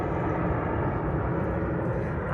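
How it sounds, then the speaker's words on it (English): An airplane passes over a garden, a steady broad roar that fills the background evenly without rising or fading. "oh goodness, pardon the airplane noise."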